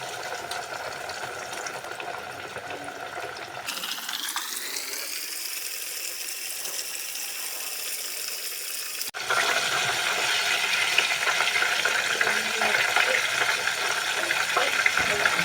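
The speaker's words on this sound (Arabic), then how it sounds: "هبدا اقلي البانيه في زيت غزير وسخن" Breadcrumb-coated chicken panee frying in plenty of hot oil, a continuous crackling hiss that swells louder partway through, with occasional talk over it.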